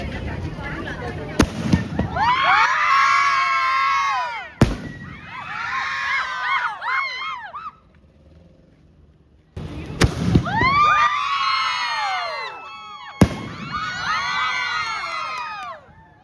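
Firecrackers burst at a temple before a bus trip: sharp, loud bangs crackle in long bursts with short gaps between them, while a crowd shouts and cheers over the din.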